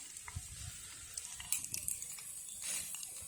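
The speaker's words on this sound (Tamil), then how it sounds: "கடுகு பொரிஞ்சிச்சு" Quiet crackling and popping of mustard seeds spluttering in hot oil, scattered sharp pops over a steady faint sizzle, close by.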